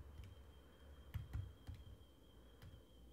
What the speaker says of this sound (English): I start typing in digestive.